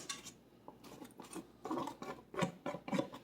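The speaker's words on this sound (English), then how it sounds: "now I'm going to put my water chestnuts in" Canned water chestnuts tumble into a pan already holding fire-roasted tomatoes, cabbage and shrimp, giving a series of quiet, irregular clattering taps and scrapes close by in a home kitchen.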